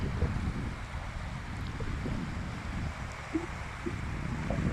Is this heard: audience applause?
no